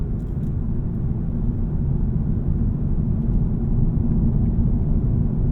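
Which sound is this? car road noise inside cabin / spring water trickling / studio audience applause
car road noise inside cabin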